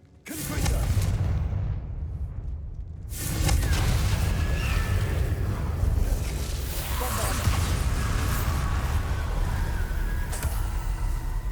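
Explosive fire spell blasts in a fantasy wizard-school action game, with a loud boom and crackling burst after a brief quiet gap, followed by sustained rumbling, whooshing battle noise that stays dense and heavy throughout.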